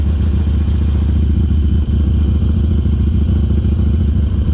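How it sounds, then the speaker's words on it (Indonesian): An American motorcycle rumbles loudly at close range while riding, its engine pulsing with a heavy Harley-like vibration and clattering continuously throughout. "motor ini super getar seperti Harley, seperti biasanya ya"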